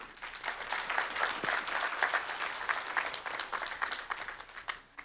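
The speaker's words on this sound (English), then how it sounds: "So let's give them a round of applause." An audience claps steadily at a 50th anniversary event for Tribal Vocational Rehabilitation Services on the Navajo Nation, a dense, sustained round of applause that swells and then tapers off near the end.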